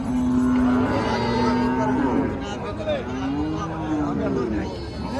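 A cow at a crowded cattle market in Hazratpur lets out a long, loud, close moo that wavers and then trails off into a lower second call, with the busy murmur of the crowd underneath.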